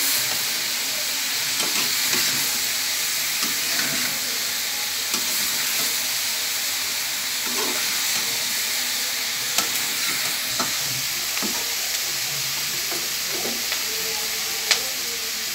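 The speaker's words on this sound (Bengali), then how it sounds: "এখন এটাকেও আমি ভালোভাবে নাড়াচাড়া করব" Cabbage fried for Chinese-style vegetables is stirred steadily in a hot pan, a continuous loud sizzle under repeated spatula scrapes and taps, with a sharper knock near the end.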